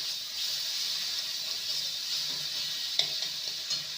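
Masala being sautéed with a little sour yogurt in a pan over a low flame for a fennel and okra dish, a soft continuous sizzle with occasional faint stirring scrapes and taps, no talking.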